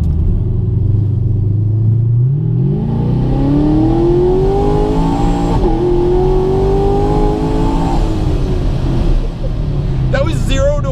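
ProCharger supercharged car (P-1SC-1) accelerating hard, its engine rising in a long loud climbing whine and rumble, then holding high before easing off near the end.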